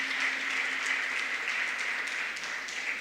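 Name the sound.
audience applause in church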